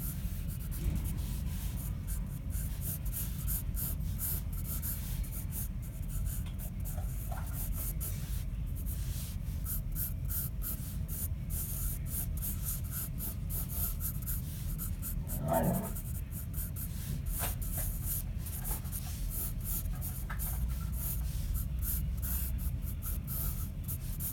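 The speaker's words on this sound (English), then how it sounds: "I need to relearn how to draw cowboy hats though." Pencil scratches across a sketchbook page while a cowboy character is drawn, giving soft continuous rubbing and stroking at close range, quiet and without talk.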